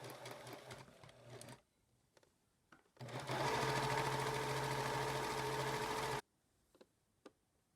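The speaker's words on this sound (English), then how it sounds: "we're going to start by sewing the two hems" A sewing machine stitches hems on machine-knitted fabric, with a short run, a pause, and then a steady loud whirring burst lasting about three seconds, close up, followed by faint handling noises.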